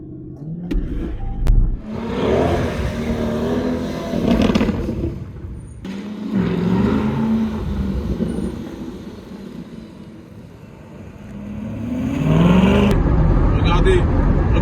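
A Corvette C8 Stingray's V8 rises and falls in several rev swells, the throttle building in surges with gaps between them, heard from inside the car while people talk over it.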